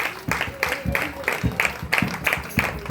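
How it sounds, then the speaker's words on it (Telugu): An audience at a women's meeting claps in a steady, rhythmic beat, loud and close, with a voice sounding over the clapping. "గట్టిగా చప్పట్లు కొడదాం మనం."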